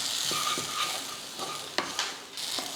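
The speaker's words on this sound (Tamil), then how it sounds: "அந்த சூட்லேயே பார்த்திங்கன்னா இதெல்லாம் கிளறி விட்டுருவோம்" Masala powders, including turmeric, are stirred in a hot pan with the stove switched off while a dry fish curry is made. A soft, continuous sizzle runs throughout, with a few light scraping knocks of the spoon and no talk.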